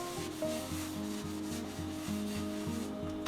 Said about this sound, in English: The more you sand, the more you remove the scratches, and also the finish